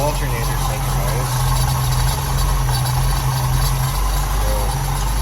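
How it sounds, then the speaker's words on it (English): A 1966 Ford Mustang coupe with a 289 V8, found in a barn, idles steadily with a deep, loud, close rumble. A thin whine from its new, faulty alternator rides on top. "we got it running, but the new alternator's making noise"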